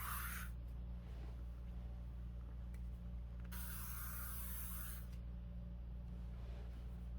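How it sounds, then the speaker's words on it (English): Workable Wear hairspray hisses from an aerosol can onto hair in two bursts, a short one at the start and a longer one midway, close and fairly soft against a quiet room hum. "will then take the Workable Wear hairspray, which will hold it a little bit more"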